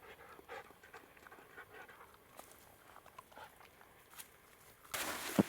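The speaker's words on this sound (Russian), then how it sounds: "Сейчас напоим собаку" A dog pants softly and rapidly outdoors among rocks near Beloretsk, Bashkortostan, with faint rustling steps nearby and a louder scuffle near the end.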